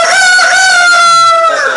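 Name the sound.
person imitating a rooster crowing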